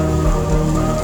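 Light drizzle falling on a camping tent, a dense, even patter of raindrops that holds steady and fairly loud with no voices.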